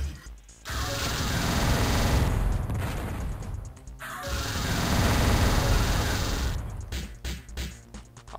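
Homing missiles firing in the Descent video game, a dense continuous roar of launches and explosions in two long loud bursts, followed by a string of separate sharp blasts near the end.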